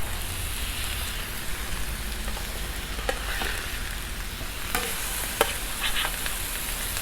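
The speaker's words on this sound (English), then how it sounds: "might as well throw the steak on too" Steak searing on a 36-inch Blackstone griddle while fajitas cook, giving a steady broadband sizzle with a few sharp pops and crackles, close and continuous with no talking.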